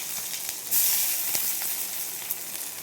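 Chopped vegetables hit hot mustard oil with a loud, close, continuous sizzle that flares sharply near the start and then settles into a steady hiss. No one speaks.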